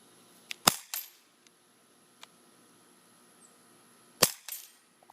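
A WinGun M704 Battle Ready CO2 airsoft revolver fires sharp, loud, snapping shots, a pair early and another pair about three seconds later, each with a brief hiss of gas and quiet clicks between them.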